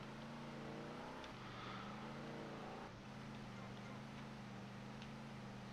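A car drives in GTA Vice City with the Mamaia Vice mod, its engine droning steadily with a brief pitch drop as it shifts, a continuous moderate hum with faint game ambience behind it.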